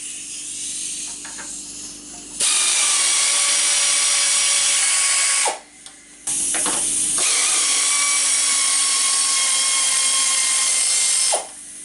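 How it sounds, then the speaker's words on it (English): An air ratchet spins loose the exhaust bolts on a Yamaha G1 golf cart, two long, loud, steady whirring bursts with a short break between, close by and without talk. "I'm going to be using an air ratchet just to kind of save a little bit of time."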